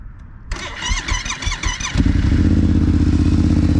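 A motorcycle fitted with a 2023 Akrapovic exhaust cranks briefly with a rattling starter, then catches and settles into a loud, steady, throbbing idle close by.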